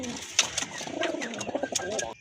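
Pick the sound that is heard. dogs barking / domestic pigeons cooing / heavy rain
domestic pigeons cooing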